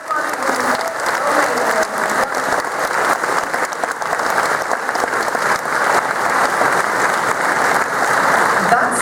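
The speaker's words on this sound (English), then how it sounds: "So give yourselves a round of applause." A large convention audience at the Eurofurence 22 ceremony gives steady, close applause, an even wash of clapping that holds at full strength throughout.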